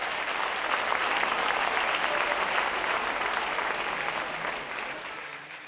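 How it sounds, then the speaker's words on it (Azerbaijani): A large audience honouring top students at ADA applauds in a sustained, dense, even wash of clapping that holds steady and then gently tapers toward the end. "Gəlin buradan ADA-da bu prinsiplərlə oxuyan bütün əlaçı tələbələri alqışlayaq."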